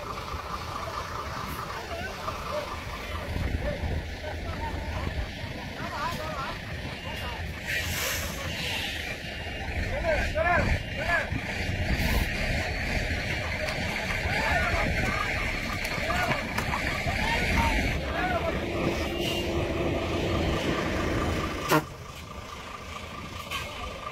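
A bus engine runs with a constant low, rough rumble and wind-like noise that swells midway, while people talk over it and a single knock sounds near the end.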